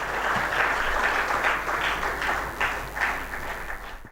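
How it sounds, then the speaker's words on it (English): Audience applause for the keynote speaker, the Deputy Governor of RBI, at a banking conclave in Odisha: steady, dense clapping from a large hall crowd sustained throughout, fairly loud, with no talk over it. "Can we have a huge round of applause for him?"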